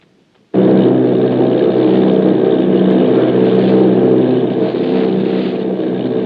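Army bomber engines roar in a War of the Worlds radio drama, starting abruptly and holding a loud, steady, close droning hum with no voices over it.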